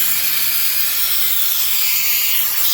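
Loud, continuous hiss of rushing air from a coolant vacuum fill tool pulling vacuum on a car's cooling system, steady throughout, with no voices.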